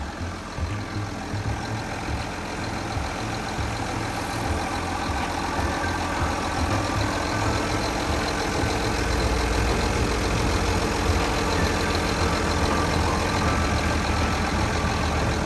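A Komatsu WA430-6 wheel loader's diesel engine idles steadily and close by, a low rumbling drone that holds even throughout with no voices.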